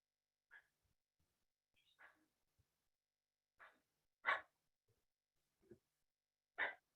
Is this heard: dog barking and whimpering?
yes